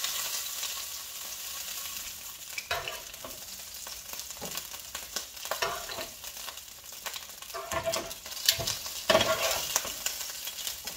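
Rooster pieces sear in a hot pan, a steady loud sizzle and spatter with occasional scraping and stirring knocks, close and uninterrupted, with no voices.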